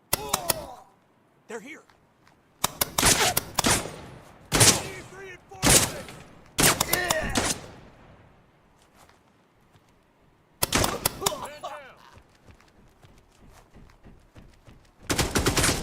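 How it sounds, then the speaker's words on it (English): Gunfire in the video game Dagger Directive: loud, close bursts of rapid shots come in clusters separated by short quiet gaps, with a voice speaking briefly among them. "Taking fire."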